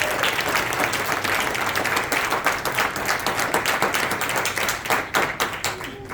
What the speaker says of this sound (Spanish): Denle un aplauso a Dios, iglesia.